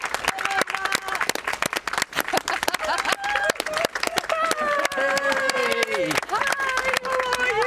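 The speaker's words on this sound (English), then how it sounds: "Give them a nice round of applause." A small studio crowd on a morning TV news programme claps steadily and cheers, with voices calling out over the applause.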